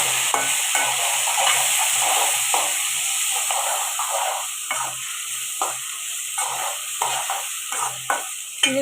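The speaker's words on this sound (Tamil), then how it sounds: "தக்காளி சேர்த்து நல்லா வதக்கி வச்சுக்கணும்" Tomatoes are sautéed in a hot pan with a strong, hissing sizzle, while spatula scrapes and stirring strokes recur in an uneven rhythm.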